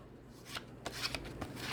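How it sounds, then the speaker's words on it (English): A tarot deck being shuffled by hand in short bursts of riffling and rubbing card sounds, quiet and close, with a few sharper slaps toward the end. "So let me show you my shuffle."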